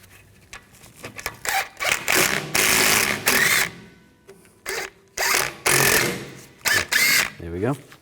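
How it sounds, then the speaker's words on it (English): A bolt threaded into a Toyota Sienna rear wheel hub is tightened with a power tool to push off the brake rotor, giving several loud, choppy mechanical bursts between pauses, close up. "You can take a bolt that threads into those holes and just tighten it up."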